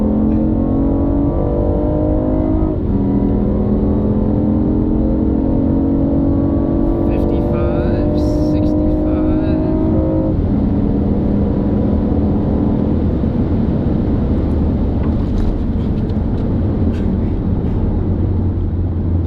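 A BMW i8 hybrid supercar accelerates with a loud, smooth rising whine that steps up in pitch through several gear changes over steady road rumble inside the cabin, with a person talking over it.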